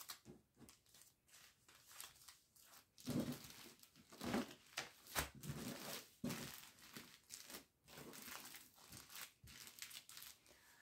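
A plastic zipper package crinkles and rustles as crochet threads are packed into it, close and quiet, with irregular bursts of crumpling and handling noise and no talk.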